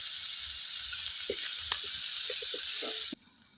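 Neem flowers crackle in hot mustard oil with a steady, close frying hiss, small pops and spatters scattered throughout, before the sizzle abruptly drops away.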